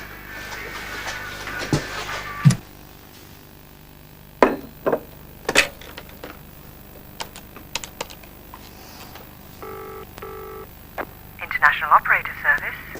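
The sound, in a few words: telephone call being dialed to Italy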